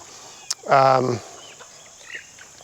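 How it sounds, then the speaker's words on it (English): A short burst of clucking from a chicken, close by, with a faint click before it and quiet outdoor ambience afterward. "Chickens are finally staying in."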